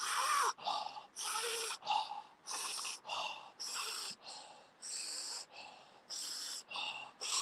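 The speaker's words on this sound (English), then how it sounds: "Feel the energy of everyone breathing now." Deep, forceful breathing during a group breathwork session, a steady rhythm of about a dozen sharp inhales and exhales, close and fairly quiet, with no talk.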